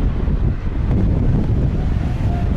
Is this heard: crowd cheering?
no